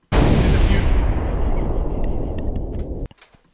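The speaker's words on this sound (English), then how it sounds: "That was an explosion." A loud, sudden explosion bursts out close by and roars with a long rumbling tail for about three seconds before cutting off, with no talking.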